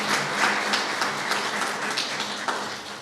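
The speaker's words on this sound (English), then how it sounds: "I know we owe Marge a round of applause" Steady applause from an audience at an evening humanitarian awards ceremony, honouring the woman who led the night, a close wash of many hands clapping with a few sharper claps, without any speech.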